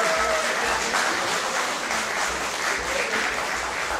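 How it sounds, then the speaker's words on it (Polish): Sustained, dense applause from a concert audience at a brass band festival in Wieliczka, steady and loud throughout with no break. "na ogromne brawa"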